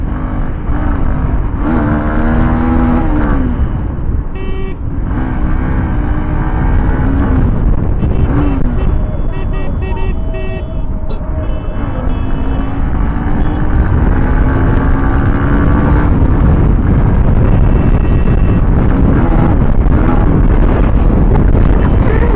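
A Yamaha R15 sport motorcycle's engine rises and falls in pitch through the gears while riding, with heavy wind buffeting the microphone throughout.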